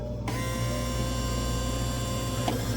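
A Dixie Narco vending machine powers on after being plugged in, with a sudden start into a steady loud electrical hum and whine that holds throughout, close by with no speech.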